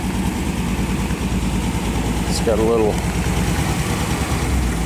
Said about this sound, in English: that's the engine. It's running.